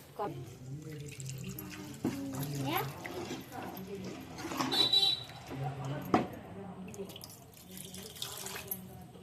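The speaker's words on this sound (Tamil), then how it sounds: "இப்போ வந்து நான் தேவையான அளவு தண்ணி ஊற்றிக்கிட்டேன் பாருங்க." Water is poured into a pan while dried fish curry cooks, a splashing, trickling stream in bursts with a few drips, while a voice talks over it.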